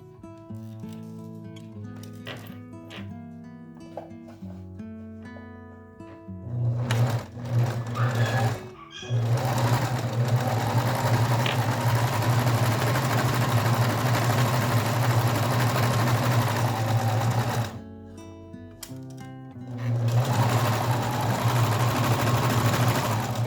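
A domestic sewing machine running a straight stitch on knit fabric. Light clicks and handling come first, then two long, loud runs of even, rapid stitching with a brief pause between them.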